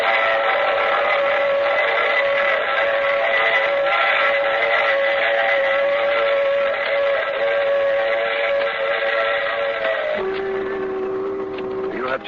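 A loud, sustained train whistle blows over the steady rumble of rolling railcars, shifting to a lower tone near the end.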